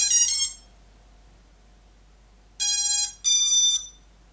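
A quadcopter's BLHeli electronic speed controllers play their startup tune when the battery is plugged in: a short burst of high electronic beeps, a pause, then two more beep sequences, clean and close against a quiet background.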